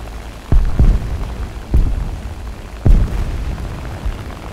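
A bomb dropped from a Junkers plane explodes in a video game, heard as three loud, booming blasts spaced a second or so apart, each with a deep rumbling tail over steady background noise.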